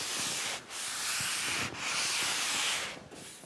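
Steady, loud abrasive rasping of block sanding on a car body panel, continuous long strokes with two or three brief pauses between passes, close to the listener with no voices.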